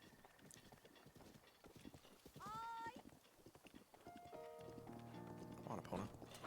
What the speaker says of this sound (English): guess I'm gonna make a run for it while Epona tries to catch up to me